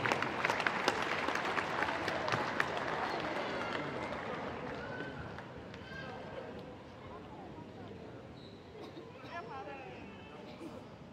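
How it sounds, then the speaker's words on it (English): Applause from the crowd at a U17 women's basketball final between Australia and New Zealand, a loud burst of clapping that gradually fades, with an announcer's voice heard over it. "Let's give them a big round of applause."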